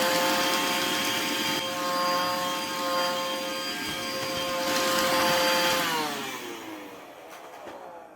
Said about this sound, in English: Won't hurt to flip this over, give this side a vacuum as well.